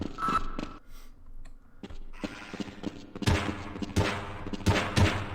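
Gunfire in the game Half-Life, sharp repeated shots and bursts in an irregular rhythm, close and punchy, with gaps between volleys.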